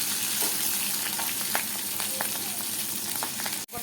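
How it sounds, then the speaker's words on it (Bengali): Boal fish shallow-frying in a pan on a gas stove, a steady close sizzle and spatter with scattered pops, a brief dropout near the end. "বোয়াল মাছ কিন্তু হালকা হালকা করে ভাজবে আর বেশি করে ভাজবো না"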